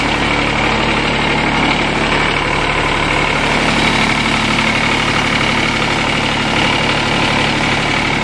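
A Kubota D722 diesel engine idles steadily on a TG1860 ride-on mower, a loud, continuous close-up drone with constant vibration and no speech.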